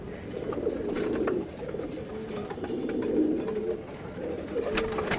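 Pigeons kept in a coop for sale in Wari, Dhaka, coo in a low, steady, overlapping murmur that runs throughout, with a few sharp clicks and rustles near the end.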